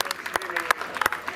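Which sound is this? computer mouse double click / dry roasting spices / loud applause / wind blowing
loud applause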